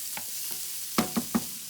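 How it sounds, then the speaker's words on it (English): Sausage browning in a frying pan while being stirred and chopped, a soft steady sizzle with three sharp scraping knocks near the end. "our sausage is still browning away here"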